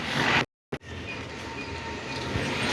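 A train at a station gives a steady, close rumble that runs through the whole stretch, broken by a brief dropout near the start, with no speech.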